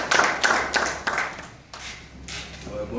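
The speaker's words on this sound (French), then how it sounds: "Est-ce qu'on peut applaudir pour..." Scattered clapping at an art performance festival in Kinshasa, with a handful of sharp, separate claps in an uneven rhythm that thin out and fade, close by, with no sustained crowd roar.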